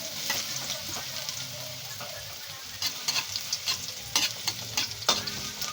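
Seasoning and garlic hitting hot cooking oil in a Filipino home kitchen while making chicken kinamatisan, a busy crackling sizzle with stirring scrapes and several sharper spatters near the end.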